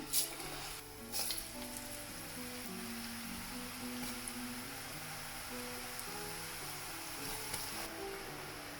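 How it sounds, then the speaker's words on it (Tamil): Sippi dough, a Jaffna sweet, deep-frying in hot oil gives off a steady, soft sizzling hiss with faint bubbling that continues evenly throughout, with no voices. "எண்ணெய் கொதிச்சா பிறகு இந்த சிப்பியை போடுறேன்."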